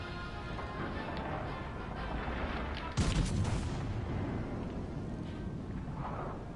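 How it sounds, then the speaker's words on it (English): Naval guns on the warship Vladivostok fire a full volley in World of Warships, one sudden loud boom that dies away over a dense, steady bed of game noise. "Vladivostok's fired his full volley"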